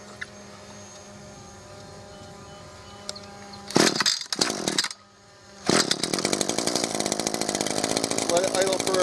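An Echo or Stihl gas line trimmer engine starting: quiet at first, then a pull-start burst that briefly catches and dies, followed by a second start into steady, loud, buzzing running.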